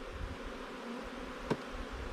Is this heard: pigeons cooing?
no